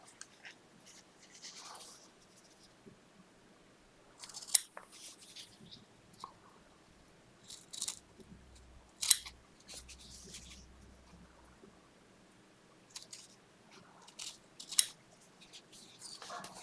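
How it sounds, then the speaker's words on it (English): Scissors snip small pieces of wool off a quilt piece in a quiet workshop setting, a few sharp, close cuts spread out with pauses, with soft talk in between. "I'll just cut those little pieces off I left attached."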